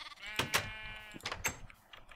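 Sheep in the video game Minecraft bleat in several short, nasal calls, close and moderately loud, with brief pauses between them.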